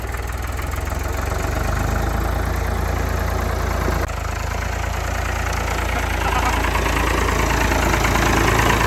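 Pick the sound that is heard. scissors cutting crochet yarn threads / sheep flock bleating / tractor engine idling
tractor engine idling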